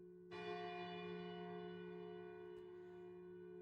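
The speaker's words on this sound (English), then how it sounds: "The village bell begins to peal, reverberating with utter clarity through the distant mountains" A village bell from the video game Lost Odyssey strikes once and then peals, a loud sustained ring with many steady overtones that lingers and decays slowly, with no voices over it.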